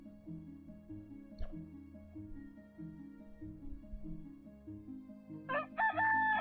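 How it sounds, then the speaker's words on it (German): A rooster crows in the video game Towns, one clear cock-a-doodle-doo rising near the end over a quiet looping background melody. "Ja, hier kräht der Hahn."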